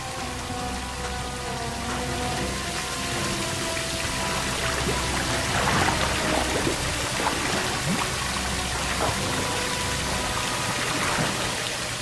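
Running water pours and splashes in a steady, dense rush like heavy rain, continuous and fairly close throughout, with no voices.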